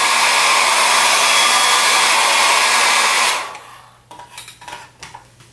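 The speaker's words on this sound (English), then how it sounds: "we're going to use the old trusted hairdryer" A hair dryer blows loudly and steadily for a few seconds, then switches off, followed by light clinks and taps.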